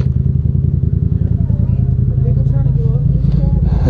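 A motorcycle chugs up a rocky mountain trail, its engine a loud, close, steady pulsing rumble, with a voice speaking over it.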